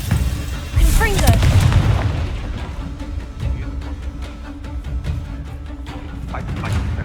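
A Confringo explosive spell cast in Hogwarts Legacy: a loud booming blast with a crackling burst, followed by a lower rumble and scattered smaller impacts that fade across several seconds.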